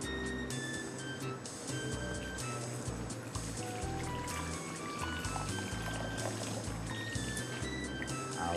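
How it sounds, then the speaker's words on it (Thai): Tap water pours and splashes steadily over fresh basil-type leaves being rinsed in a kitchen, a continuous moderate trickle with faint clinks, heard without any talking. "เดี๋ยวขอล้างน้ำแค่นิดเดียว"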